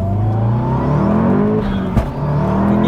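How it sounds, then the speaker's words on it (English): Stage 3 tuned Audi S1 with a manual gearbox accelerating hard, a loud close turbocharged engine note climbing steadily in pitch, then a brief sharp whoosh from the turbo or dump valve midway before the revs continue. "I'm not sure if it's a dump valve or the turbo."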